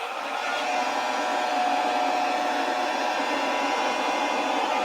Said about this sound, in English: So apologies, hairdryer.